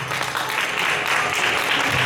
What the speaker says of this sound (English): Let us give a big round of applause to our kids.